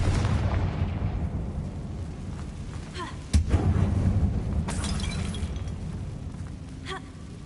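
Spell explosions from a Harry Potter video game, the Incendio fire spell and the Confringo blasting curse, sound as a sudden booming burst midway over a dense, steady rumble, followed by a second, softer blast.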